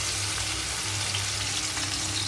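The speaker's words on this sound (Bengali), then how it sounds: "এবারে আমি মশলা বাটাটা দিয়ে দিচ্ছি।" Spice paste hits hot oil in a pan while cooking a Bengali shrimp and pumpkin curry, giving a loud, steady sizzle and frying hiss that holds evenly throughout without a break.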